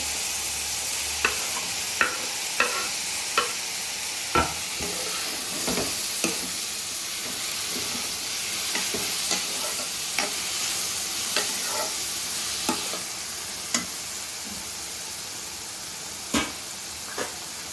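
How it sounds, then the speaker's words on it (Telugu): Ridge gourd and tomatoes fry in a pan with a steady sizzle, broken by regular sharp scrapes and clicks of a spoon stirring the vegetables, close and without talk. "బీరకాయలు అయితే వేగినాయి ఇప్పుడైతే మనం టమాటాలు కూడా వేసేస్తున్నాము"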